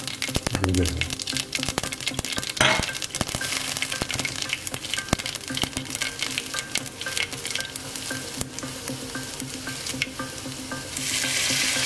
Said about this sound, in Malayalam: ബാക്കിയുള്ള കാര്യങ്ങളെല്ലാം ഈ വെളിച്ചെണ്ണയിൽ ഒന്ന് വറുത്തെടുക്കണം